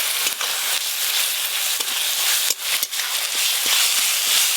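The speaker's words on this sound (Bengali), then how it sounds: "পেঁয়াজ বাটা তো হালকা করে ভেজে নিয়েছি, এবার আদা রসুন বাটা দেবো" Ginger garlic paste sizzling loudly as it hits fried onion paste in a hot pan, a dense continuous hiss with a few sharp spatter pops and stirring knocks.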